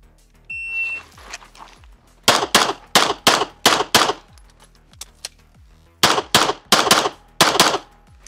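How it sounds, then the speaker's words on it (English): H&K P30L pistol shots in rapid strings, loud sharp cracks in two bursts of about five and six shots, preceded by a timer beep. "Let's tape it up, and then we'll have Dillon shoot with the H&K."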